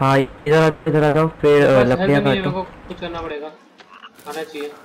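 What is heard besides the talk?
frog croaking in the video game The Forest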